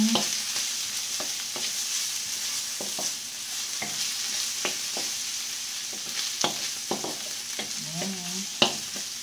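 Chicken and hotdog stir-fried for fried rice hiss steadily in a hot pan, with irregular scraping and knocking from a spatula throughout.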